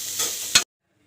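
Chopped ivy gourd sautéing in a hot pan for chutney gives a brief, close sizzle with a quick stirring scrape, then cuts to silence.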